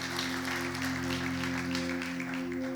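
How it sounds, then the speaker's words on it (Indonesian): Applause from a church congregation during a Sunday worship service, a steady wash of clapping over a sustained low musical hum, even and moderately loud throughout. "Yang setuju berikan tepuk tangan buat Tuhan."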